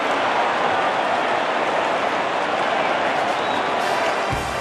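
A playoff stadium crowd roars and cheers steadily after a Baez hit to center field in a 2016 Cubs postseason game, a loud, dense, unbroken wash of noise.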